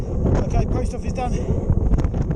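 Strong, cold wind buffets the microphone in loud, gusty roars while cycling on flat ground, with a voice partly audible beneath the rushing noise.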